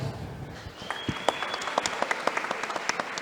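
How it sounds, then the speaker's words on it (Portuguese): An audience at an evening panel talk on blockchain and tokenization applauds to welcome a guest to the stage. The clapping is steady and sustained, fairly close, and fills the room. "Carlos Belivacqua, uma salva de palmas"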